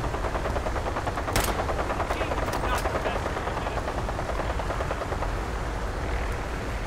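Rifle gunfire in Fallout 4 during a castle defense battle: a few sharp shots stand out near the start over a dense, steady wash of combat noise and rumble, with a voice talking throughout.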